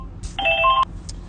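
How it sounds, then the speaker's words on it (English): An incoming phone call sounds as one short electronic ring burst of warbling tones, clear and nearby, over quiet room noise. "Sorry guys, I got a phone call, so hopefully it doesn't distract you too much."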